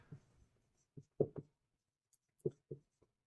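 Pen or chalk strokes on paper during a Hindi coordinate geometry lesson: several short, separate scratchy marks in small clusters, fairly close and quiet, with no talking.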